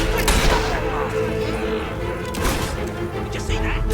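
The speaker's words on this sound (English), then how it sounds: "Shooting at us!" Gunfire in the video game Fable 3, a dense burst of shots and impacts running steadily under a continuous bed of game music and effects, with one heavier crack near the start.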